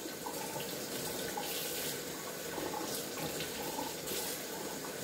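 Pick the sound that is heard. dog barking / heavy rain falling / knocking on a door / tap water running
tap water running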